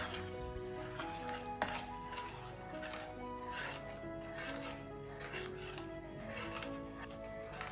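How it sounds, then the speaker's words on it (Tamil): Wheat flour (atta) roasting in ghee for kada prasad halwa, a spoon stirring and scraping steadily against the pan with soft sizzling underneath, continuous, close and with no talking. "நெய்யிலேயே இதை நல்லா நாங்க வறுத்தெடுக்கணும்"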